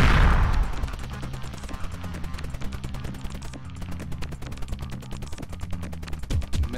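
Missiles launching in rapid succession in a Windows 7 video game, a dense regular stream of sharp firing pulses over a low rumbling drone.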